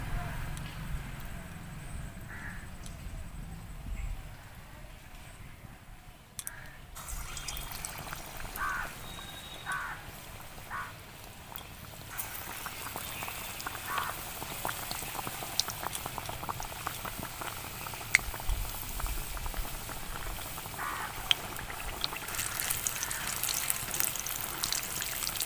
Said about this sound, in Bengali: এবার আমি একে একে চপগুলো সব তেলের মধ্যে দিয়ে দেব।